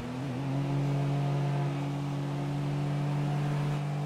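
Steady engine drone of a car accelerating in GTA V Online, a continuous loud hum with a rising pitch that holds throughout, heard on its own with no talk over it.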